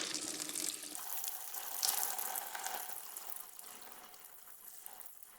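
Antifreeze draining out of the engine of an abandoned 1950s hot rod roadster, a hopped-up 1932 Ford and Model T combination, pouring as a close, steady hissing gush that slowly tapers off, with no talking.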